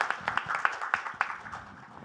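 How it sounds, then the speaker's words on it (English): Brief burst of audience clapping at the Global Fintech Fest, a small crowd applauding a speaker introduced on stage, sharp claps tapering off within two seconds. "Vishnu a warm round of applause"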